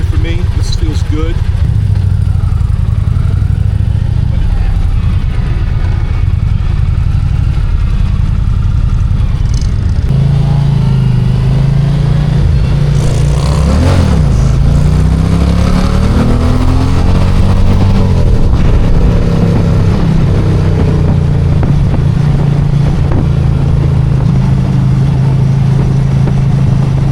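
Indian motorcycle at a demo ride event, its engine running loud and close with a constant low rumble, swelling into revs partway through while a rider talks over it.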